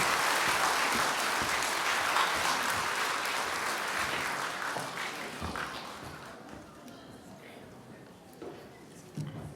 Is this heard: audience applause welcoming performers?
yes